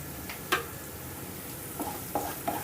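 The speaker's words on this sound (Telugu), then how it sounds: "ఇప్పుడు ఈ ఉల్లిపాయల్లో నీరంతా ఇంకిపోయి చక్కగా బ్రౌన్ కలర్ వచ్చేంత వరకు వేపుకుందాం" Sliced onion and dried red chilli pieces fry in a pan for an egg 65 dish, giving a soft steady sizzle with a few brief stirring scrapes at close range, no voices present.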